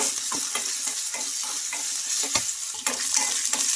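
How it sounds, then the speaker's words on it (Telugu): Lentils, cumin, garlic cloves and green chillies fry in oil in a kadai, a close sizzle with rhythmic scraping strokes of a ladle stirring the mix every half second or so. No one talks. "ఇంకా మనకు పచ్చిమిర్చి కూడా బాగా ఫ్రై అయిపోయింది కదా"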